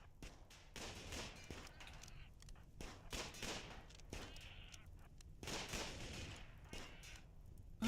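Gunfire from the colony sim Rimworld: repeated sharp broadband shots in irregular bursts and clusters across the whole stretch, moderately loud over a steady noisy background.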